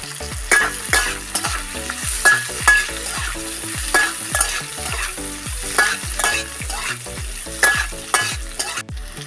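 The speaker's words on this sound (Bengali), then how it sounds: "আর দিয়ে দেবো আলুটা, আর উপরে ভেজে নেবো ভালো করে" Sago with cashews and potato frying in a pan, stirred in a steady rhythm of repeated scraping strokes over a continuous sizzle, close and moderately loud, with no talking.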